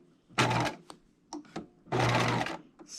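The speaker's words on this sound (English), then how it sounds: "we're going to start stitching" Two short bursts of a sewing machine stitching fabric along a fold, close and fairly loud, with small handling clicks in the pause between them.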